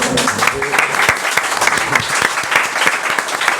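An audience at a talk claps steadily for several seconds, loud and close, with dense overlapping hand claps and a few voices underneath.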